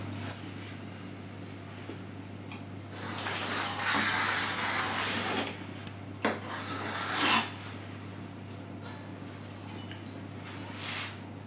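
Puff pastry for a galette des rois is cut into discs, giving soft rasping scrapes of a blade against a board. The strokes come in a few short bursts over a steady low kitchen hum.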